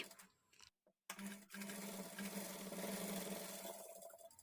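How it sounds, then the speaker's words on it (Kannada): A sewing machine runs steadily while stitching the lining edge of a square-neck blouse, a close, continuous mechanical whir that briefly stops near the start before resuming without pause. "ಈ ಮೂಲೆಗೆ ಬಂದಾಗ ನೀಟಾಗಿ ಈ ಥರ ತಿರುಗಿಸ್ಕೊಂಡು ಸ್ಟಿಚ್ ಮಾಡ್ಕೊಳ್ಳಿ"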